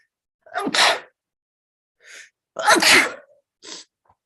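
Two sharp sneezes ring out close by, each with a quick breathy lead-in, separated by a short pause, then a faint sniff.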